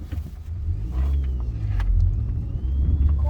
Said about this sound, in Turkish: araba hareket edecek